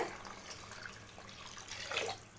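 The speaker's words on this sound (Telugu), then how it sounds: "ఇప్పుడు కర్రీకి కావాల్సినంత ఈ కప్పుతో అయితే వాటర్ వేస్తున్నా" Water poured from a cup into a tamarind-based small-fish curry, a soft splashing pour near the mic that swells briefly toward the end, with no talking.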